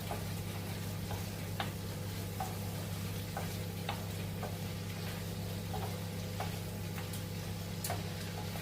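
Prawns frying in a pan on an electric stove, a low continuous sizzle with a steady hum and scattered small ticks and pops, fairly faint and without speech.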